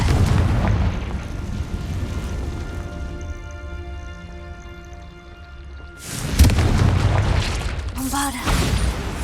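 A Confringo fire spell blasts in Hogwarts Legacy, with heavy booms and bursts rising out of a dense combat din, the loudest hit coming about two-thirds through and a second burst near the end.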